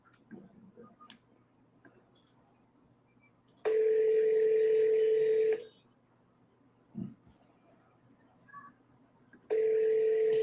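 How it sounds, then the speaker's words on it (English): Two long, steady electronic phone tones, each about two seconds, separated by faint background noise and a brief low thump, loud and close. "You guys hear the ringtone good?"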